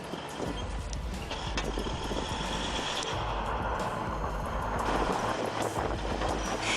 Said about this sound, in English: the exposed turbocharged diesel engine roars with unfiltered power